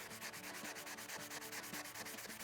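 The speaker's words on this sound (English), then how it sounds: "I'm going to go back to a finer grit and clean it up" Sandpaper rubs steadily over a hand-carved wooden spoon, working with the grain at a finer grit, a continuous close scratchy rasp with faint rhythmic strokes and no talk.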